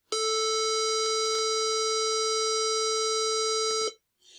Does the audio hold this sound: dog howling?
no